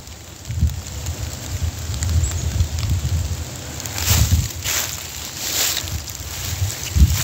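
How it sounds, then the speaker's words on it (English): Raindrops fall in scattered patters and soft hits outdoors, moderately loud, mixed with gusty wind rumble on the microphone and no talking. "Raindrops."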